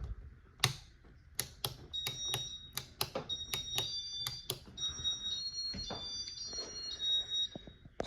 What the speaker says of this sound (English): So those beeps indicate that the fan has been programmed into demo mode.